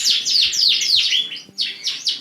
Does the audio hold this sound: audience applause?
no